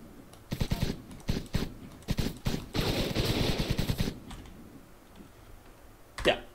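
An AK rifle fires in an Unreal Engine 4 game in short, sharp bursts, then a longer continuous volley, with crisp close cracks and a faint sound near the end.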